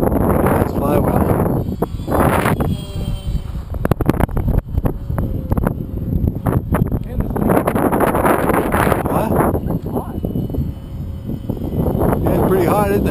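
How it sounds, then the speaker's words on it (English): Strong wind buffets the microphone outdoors on a windy day at a model airplane field, with loud continuous roaring gusts throughout and voices talking faintly underneath. "Too windy for me."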